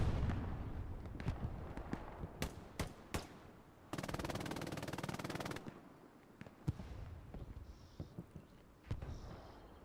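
Long-range rocket artillery impacts in Hell Let Loose on Utah Beach near a chapel, a rapid string of sharp blasts and crackling bursts with a dense roaring barrage midway, then scattered distant booms, under occasional talk.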